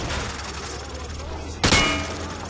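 Gunfire penetrating light cover in the Call of Duty: Modern Warfare 2 training level, a single sharp burst of shots near the end after low background rumble, heard over an ambient firing-range bed.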